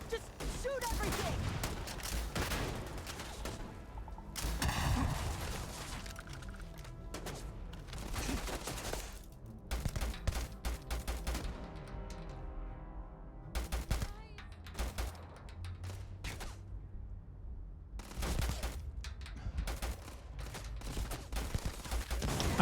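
Bursts of gunfire from a firefight in the sci-fi game Starfield, dense rapid shots in repeated volleys with brief lulls, loud and close, with voices talking in between.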